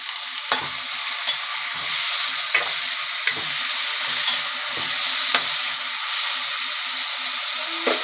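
Ginger garlic paste, asafoetida and turmeric fry in a hot pan with a steady close sizzle and hiss, broken by regular scraping taps of a spoon stirring every second or so.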